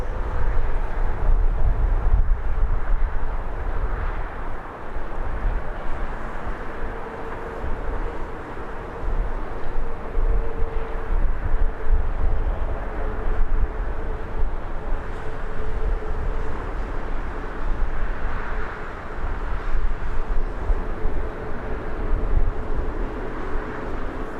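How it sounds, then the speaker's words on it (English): An ATR turboprop airliner on the runway at Birmingham Airport, a loud, steady broadband engine roar with a droning propeller hum running throughout, heard from nearby with no talk. "I must admit though, Richard, I do love the sound of those ATRs."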